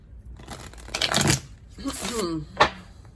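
A deck of cards is riffled and bridged in quick papery bursts, close up, with a short spoken remark between the shuffles.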